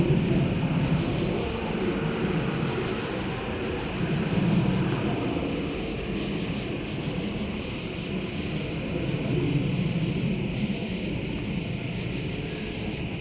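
A close aircraft flyby produces a steady, loud engine drone with a rumbling low end. A fast, regular high-pitched pulsing continues throughout, and no voices are heard.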